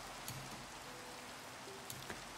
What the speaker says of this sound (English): This is a thunderstorm.